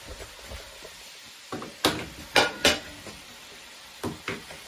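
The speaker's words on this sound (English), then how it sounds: "I'm gonna add in my zucchini, all my diced up zucchini." Diced zucchini goes into a cooking pot for chicken cacciatore, heard as a few sharp clattering knocks and scrapes of a utensil against metal, with a faint background hum in a quiet kitchen.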